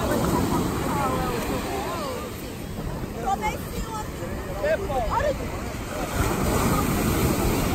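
Ocean waves surge and wash steadily at a Rio de Janeiro surf beach, with constant roar and wind buffeting the microphone, close and loud throughout.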